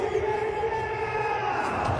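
A large crowd in a cricket stadium after an India match roars on, a dense, sustained wall of voices and cheering with distant, steady intensity and no clear breaks.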